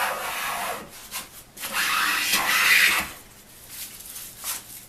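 A Union transitional wood plane pulls long strokes across a board, raising shavings in repeated rasping swipes, close and clear with no talking.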